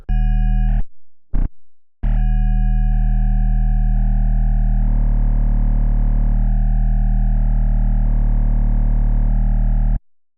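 Wobble bass synth patch built in Reason 7.1 with filter frequency modulation at amount 6, sustaining a loud, distorted low tone with a steady rhythmic wobble after a couple of brief stuttering bursts, heard alone without talk.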